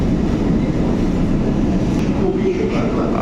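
A metro train rolls along an elevated track with a loud, constant rumble and rattle of wheels and carriages, heard from close by with no break.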